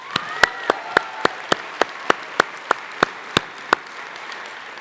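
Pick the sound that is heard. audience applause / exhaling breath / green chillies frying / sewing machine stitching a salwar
audience applause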